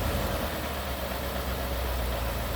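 A Ford F-150 engine idling while its oil pressure is checked, a steady, even low rumble held close and constant for the whole stretch, with no voices.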